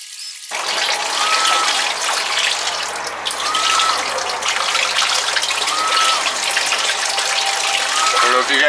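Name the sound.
water pump running and moving water in DIY greenhouse heater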